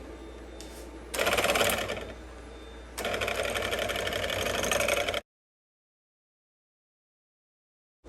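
An electric mixer whisking chocolate muffin batter as oil is added, running in close, loud whirring bursts of varying speed, then cutting to silence.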